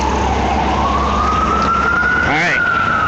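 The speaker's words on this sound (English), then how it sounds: "that's an ambulance. Regular ambulance." An ambulance siren wails steadily in a long rising sweep, then switches to a quicker warbling yelp, loud and near over a constant roar of street traffic.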